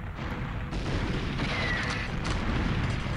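Explosion blowing up artillery in the N64 game GoldenEye, a dense low rumbling blast that swells and rolls on for a few seconds, loud and unbroken, without talk.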